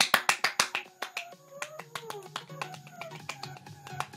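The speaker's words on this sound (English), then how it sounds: "I'm clapping!" A quick run of sharp hand claps opens the sequence, then sparser, softer claps and taps continue over faint tonal background sounds while playing a horror game.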